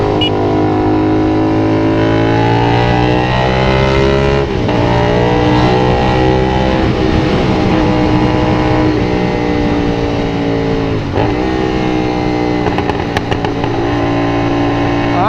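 A 450SR/SS motorcycle with a full-system exhaust roars loudly and up close on an expressway, holding a deep, steady harmonic drone with brief dips and surges as the throttle rolls on and off.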